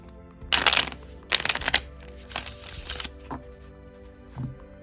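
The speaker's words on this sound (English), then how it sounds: "now let's try and give it a shuffle" A deck of Shadow Light tarot cards, slightly stiff, is shuffled by hand in three quick riffling bursts, then a couple of soft taps, heard close up with no talking.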